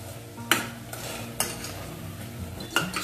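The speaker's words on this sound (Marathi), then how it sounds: "तूप ऍड केल्यावर हा जो गाजर हलवा आहे त्याला मी पुन्हा असे व्यवस्थित मिक्स करून घेते." Carrot halwa is stirred with ghee in a pan, giving soft scraping spoon strokes with a few sharp metallic clinks against the pan over a low sizzle, close up and with no talk.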